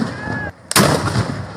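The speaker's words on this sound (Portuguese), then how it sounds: "E tome tiro de pólvora para celebrar o nascimento do santo." One loud gunpowder blast from a bacamarte blunderbuss goes off at a São João festival in Brazil, a deep booming shot that cuts through the crowd noise and echoes afterward.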